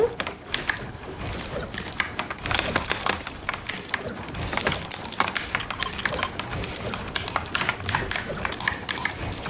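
Typing on a computer keyboard, a close, busy stream of rapid clicking keystrokes that continues throughout.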